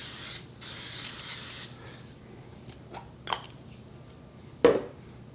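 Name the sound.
vegetable cooking spray sprayed into cast iron skillet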